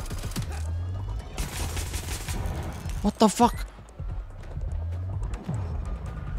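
A sudden burst of sharp blasts erupts midway through as a floor trap explodes in Watch Dogs: Legion, loud and brief, amid game sounds and a startled voice.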